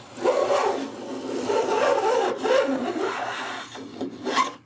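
Wooden tenons trimmed by hand with a saw for a Sheraton bowed chest, a close, continuous rasping cut with rough strokes and a few brief pauses, no talking.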